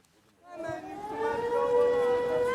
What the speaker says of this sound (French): À chaque sirène d'alarme, les mêmes réflexes.